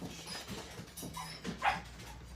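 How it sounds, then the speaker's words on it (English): A Jack Russell terrier barking and yipping excitedly at a bird trapped in a chimney, a run of quick, fairly faint yaps and whimpers heard indoors over a room's background noise. "So listen to that dog, people."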